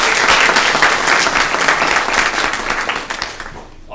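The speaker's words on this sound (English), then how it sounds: "can we give them a big round of applause?" Loud, dense applause from a crowd at a student government association meeting, holding strong before tapering off and fading near the end.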